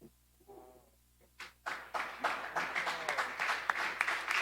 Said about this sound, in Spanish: vamos a darle ese aplauso bien amoroso al Señor